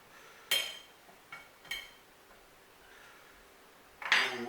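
Cooked beans are mixed into a warm three bean salad, giving a few sharp clinks of a utensil against a dish separated by quiet gaps, with a louder scrape at the end.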